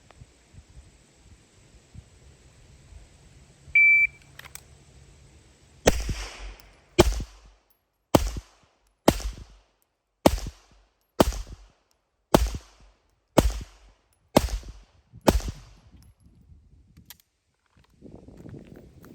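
A shot timer gives a short electronic beep, then an iron-sighted pistol fires ten rounds at a 25-yard bullseye target. The loud, sharp reports come at a steady pace, about one per second.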